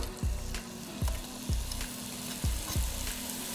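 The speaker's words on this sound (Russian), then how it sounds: "И обжариваем лук до румяного золотистого цвета." Onion sizzles in hot vegetable oil in a pan while browning for borscht, a continuous crackling hiss broken by regular, evenly spaced low thumps about once a second as it is stirred.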